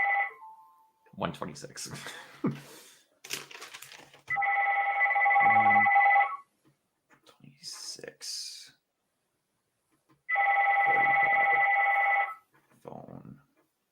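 A telephone rings in two long electronic bursts separated by a pause, loud and close, with people talking before, between and after the rings.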